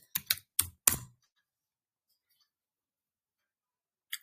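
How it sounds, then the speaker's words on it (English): A computer keyboard typed on quickly in a short run of four sharp clattering bursts, then silence before one last tap near the end. "Sorry, I'm typing fast, that's why."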